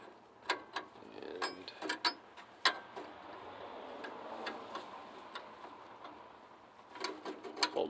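A crowfoot wrench turns a 13mm nut on a Ford F250 7.3 IDI turbo diesel, giving a series of sharp metallic ratchet-like clicks and ticks in irregular bursts, close and fairly quiet, with a pause in the middle.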